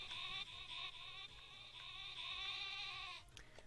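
Cry of Wooloo, the sheep Pokémon, in Pokémon Sword: a steady nasal bleating tone repeated in quick pulses for about three seconds, fairly loud and alone before a short clipped ending.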